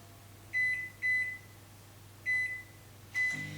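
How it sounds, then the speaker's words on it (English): A kitchen microwave oven, used to melt chocolate for a gluten- and dairy-free chocolate cake, gives four short electronic beeps over a low steady hum, quiet and close, with no talk. "I'm just going to put it into the microwave."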